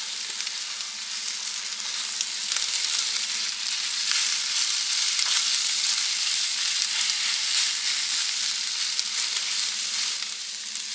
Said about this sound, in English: I'm just going to let those cook up, scramble them up.